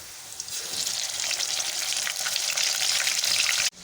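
Garlic-ginger paste frying with golden onions in a hot pan, a loud continuous sizzle with crackling bursts and stirring, ending in a sudden brief cut.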